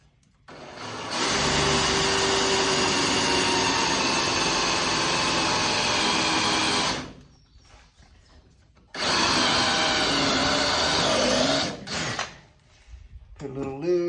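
Power drill boring bolt holes through the bottom of a 1979 Chevrolet Silverado frame, two long steady whining bursts separated by a short pause, then brief clanks and shop noise.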